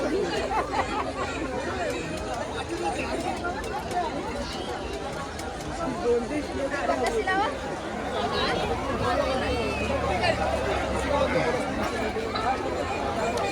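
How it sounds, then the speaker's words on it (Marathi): Dense crowd chatter at a packed village jatra fair, a constant babble of many voices with scattered footsteps and movement, steady and fairly loud throughout. "फुल गर्दी जाम गर्दी"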